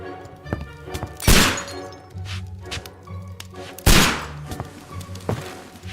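Two loud revolver shots from Sherlock Holmes: Crimes and Punishments ring out a few seconds apart, each a sharp broadband crack with a short decay, over a low background game hum.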